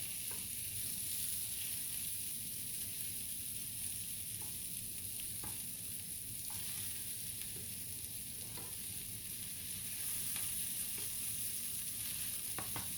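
Potatoes and onions fry in a skillet with a steady, close sizzle, while soft scraping taps of a utensil turning them punctuate it now and then; no one speaks.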